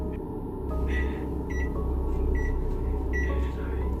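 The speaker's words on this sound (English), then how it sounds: "the microwave suddenly started making sounds as if someone was pressing its buttons" Microwave oven emitting several short electronic beeps at irregular intervals, like buttons being pressed, over a steady low hum in an otherwise quiet room.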